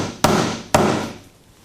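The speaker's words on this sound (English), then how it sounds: "I'm going to use my resin mallet" Two sharp taps of a resin mallet striking a copper washer at a jewelry bench, close and distinct, each with a short ringing decay, about half a second apart.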